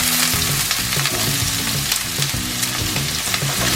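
Onions frying in a pan with asafoetida and a dried chili for dal makhani, a close, loud, crackling sizzle with busy popping that continues throughout.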